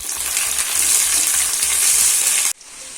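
Onions and green chillies sizzle loudly in hot oil for a fish curry, with a steady crackling hiss and faint rhythmic stirring knocks before the sound cuts off abruptly.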